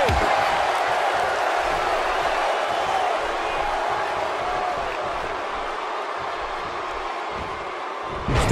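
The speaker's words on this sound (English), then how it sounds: "The crowd is buzzing. They're ready for this thing to get underway." A 1988 wrestling arena crowd before Sting versus Ric Flair, a steady loud roar of many voices filling the hall, continuous and dense throughout, with a sharp thump right at the end.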